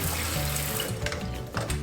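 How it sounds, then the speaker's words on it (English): Tomatoes, jalapeños and serrano chilies are rinsed under a running tap, giving a loud, continuous splash of water close by with brief clatters of produce being handled. "I just want to make sure I'm giving everything a really good rinse."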